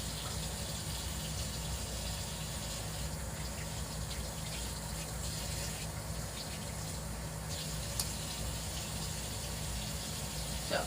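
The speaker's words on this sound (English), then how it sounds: "Now I'm just wetting my cloth again" Water runs steadily from a tap as a cloth is soaked to rinse soap out during home hair dyeing, a continuous close gushing stream with no pauses.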